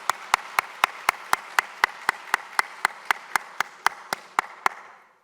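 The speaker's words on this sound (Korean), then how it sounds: "다시 한번 박수로 환영해 주시고 박수 쳐주시기 바랍니다" A church congregation claps in welcome for a newly arrived soloist after her hymn at a Sunday service, sharp regular claps repeating steadily in a room-filling, close and fairly loud rhythm.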